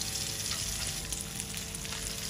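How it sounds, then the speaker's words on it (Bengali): Hilsa fish frying in a pan of hot oil gives a steady, close crackling sizzle with scattered pops, continuous and without any talking. "অনেক সুন্দর দেখা যায় মাছ ভাজাটা"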